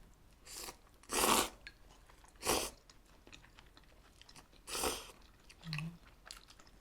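Crisp, crunchy chewing of fried food during a home-cooked Korean meal, in several loud bursts separated by quiet pauses, close to the microphone with no talking.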